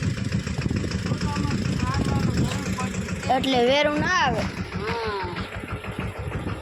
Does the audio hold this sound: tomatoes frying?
no